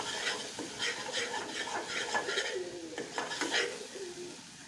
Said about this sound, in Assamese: ইয়াতে বাটাৰত মই পিঁয়াজখিনি দিছোঁ আৰু ভালদৰে ভাজি ল'ম